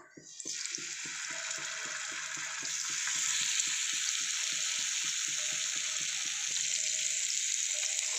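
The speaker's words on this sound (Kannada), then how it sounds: "ಎಣ್ಣೆ ಕಾಯರ ದೀತೇನು ಇತ್ತೆ ಒಂಜೊಂಜಿ ಬೂತಾಯಿನ ಪಾಡ್ಗ" Sardines (bootai) hit hot oil one after another, setting off a loud steady sizzle that swells and holds, with regular soft taps through it as each fish goes into the pan.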